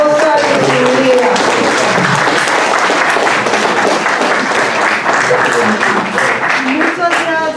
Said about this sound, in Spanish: Y yo creo que aquí un gran aplausos para Oscar y su vida.